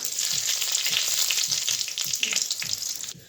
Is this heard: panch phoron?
yes